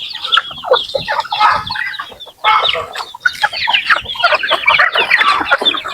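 Noisy honking and cackling from several geese close by, overlapping calls with a brief lull midway, no talking.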